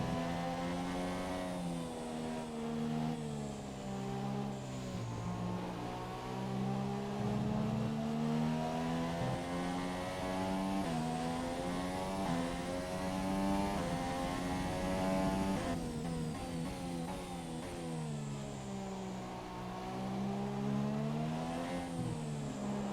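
F1 race cars in the F1 2017 video game at Shanghai, their engines a loud, continuous high-revving whine that rises and falls in pitch as they race, with no voices.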